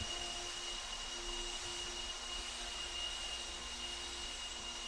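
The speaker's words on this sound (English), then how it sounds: "Marshals, pick up your blowers, please. Blow off your areas." Handheld blowers clearing debris off an RC car race track, a constant loud broadband roar with a faint whine that holds steady the whole time and has no pauses.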